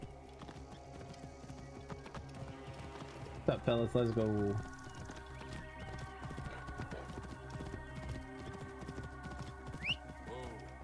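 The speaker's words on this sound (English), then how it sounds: "All right, let's get on the horse." Horse hooves clip-clop in a steady galloping rhythm in the video game Assassin's Creed Origins, with a loud burst and a whinny near the start, and someone talking over the game sounds.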